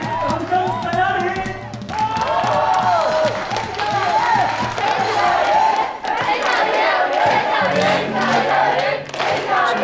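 A crowd cheers, whoops and claps for a singer about to take the stage, a lively and fairly loud mix of voices and applause with music-like tones running through it.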